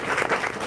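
A brief snatch of applause from a devotional gathering at an ISKCON temple in Canada: a fairly close, even patter of many hands clapping for under a second.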